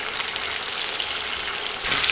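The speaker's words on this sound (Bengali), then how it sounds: "আলু উঠিয়ে এখন একই তেলে হলুদ লবণ মেখে নেওয়া ডিমগুলো দিয়ে দিচ্ছি।" Eggs coated in turmeric and salt sizzling in hot oil that was just used to fry potatoes, a steady close hiss with no talk that swells slightly at the end.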